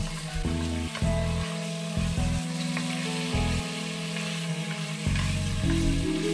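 Chicken sizzles steadily in a hot oiled pan, a continuous close crackle with stirring and scraping, no voices.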